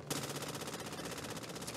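Rapid automatic gunfire in the zombie shooter video game Back 4 Blood, a fast, steady stream of sharp shots for nearly two seconds, moderately quiet and without talk.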